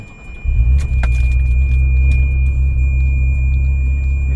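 A 42,000-mile convertible car cranks and its engine catches after a short pause, settling into a loud, steady idle with a high whine over it. A brief jangle of keys comes just after it starts.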